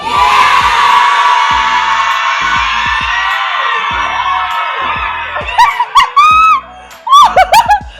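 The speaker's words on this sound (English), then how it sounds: "Can you see that it's only the women that shouted?" Women in a comedy show audience shout and cheer together in a loud sustained burst, which fades into scattered shrieks and laughter near the end.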